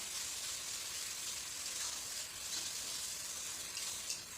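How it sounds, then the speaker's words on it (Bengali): Spice paste frying for a desi country chicken curry, a steady bright sizzle with soft hiss running evenly throughout, close and fairly quiet, with no talking. "মোটামুটি একটু কষিয়ে নিই, তারপর মাংসটা এর মধ্যে দিয়ে দেবো"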